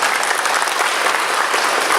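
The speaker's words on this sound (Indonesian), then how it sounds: "Tepuk tangannya yang semangat dan luar biasa." A crowd at a cooperative event gives lively, vigorous applause, a loud, continuous clatter of many hands filling the whole two seconds with no voices over it.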